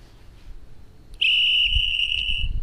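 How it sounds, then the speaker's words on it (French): Whistle-style horn on a Dualtron Eagle Pro electric scooter, a single loud, piercing steady tone sounding abruptly and holding for over a second, close by with faint outdoor background. "Vous avez le klaxon, donc que vous connaissez tous, hein, le sifflet."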